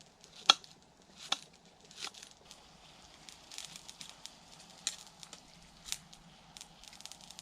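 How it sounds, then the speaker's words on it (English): A knife slicing green onions at a camp cookout in a bluebell woodland makes quiet, close cuts at an uneven pace, with soft thuds against a board. "Slice up some of these lovely green onions."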